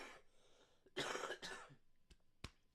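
A person coughs twice in a loud, harsh burst lasting about half a second, followed by a few fainter short sounds like throat noises or clicks, in a quiet indoor setting with no talking.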